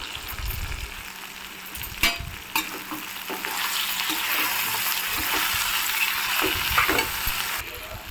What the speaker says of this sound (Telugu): తర్వాత ముందుగా కట్ చేసి పెట్టుకున్న అరటి ముక్కలు వేసి కొద్దిగా వేయించుకోవాలి.